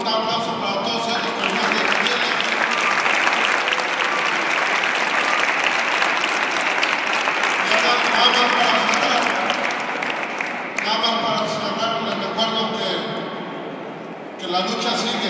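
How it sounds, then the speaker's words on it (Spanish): A crowd at a César Chávez celebration at the St. Paul Capitol applauds loudly and steadily for several seconds, then the clapping thins, with a voice speaking over it near the end. "por favor, un aplauso para todos ellos"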